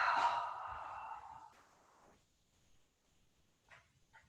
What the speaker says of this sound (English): Inhale up. And exhale back.